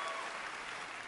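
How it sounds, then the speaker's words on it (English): A comedy audition audience claps in a brief, dense burst of applause that stays loud and steady. "Could have used those 18 claps."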